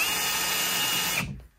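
A power drill runs steadily at high speed, briefly marking hole positions through a pair of metal arch brackets, then winds down and stops near the end.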